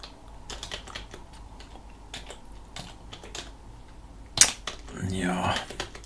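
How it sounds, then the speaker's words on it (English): Typing on a computer keyboard while working in a Linux terminal, a close run of irregular clicks and taps, one sharp louder key strike, then a brief murmur of background noise. "I'm not typing it wrong."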